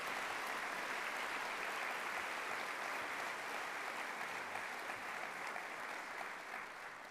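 A convocation crowd at Cal Poly claps together in sustained, even applause, a dense crackle of many hands heard from within the hall that tapers slightly at the end.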